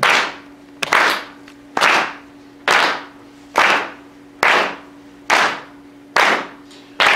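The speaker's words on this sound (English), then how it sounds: "So clapping is important" Eight sharp hand claps land at an even, steady beat during a kirtan seminar, each ringing briefly over a faint sustained tone, with no speech.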